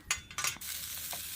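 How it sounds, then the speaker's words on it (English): Oil sizzles and burns on a cooking plate heated to about 300 degrees. A close, hissing crackle comes in two quick bursts and then settles into a softer continuous sizzle, with no voices. "we're seeing smoke from the burning plate. Oils are burning."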